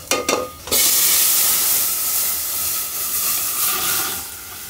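Dal cooks in two spoons of oil, sizzling and hissing steadily after a few brief stirring clatters at the start, close and fairly loud with no talk.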